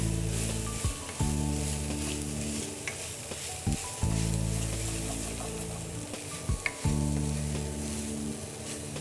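Raw, unroasted cashew nuts sizzle and crackle steadily in a hot frying pan as they are stirred, with scraping sounds breaking up the continuous frying hiss; no one speaks.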